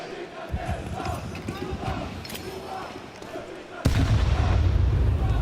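Gunfire and battle sounds during a professional Counter-Strike esports match play under a commentator's voice, with scattered shots and then a loud, dense burst near the end.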